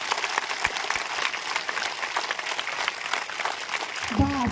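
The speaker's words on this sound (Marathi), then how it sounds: "आता जोरदार टाळ्या वाजवायच्या" An audience at a village panchayat campaign event claps loudly on request, a sustained wash of hand claps with a few sharper slaps, ending as a voice starts to speak.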